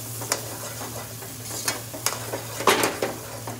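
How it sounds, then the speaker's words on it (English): Garlic and ginger sizzle steadily in a hot pan for a lamb chop curry, with a low constant hum beneath and several sharp scraping stirs, the loudest near the end. "So quite a lot of garlic and ginger, guys. Give that a nice mix."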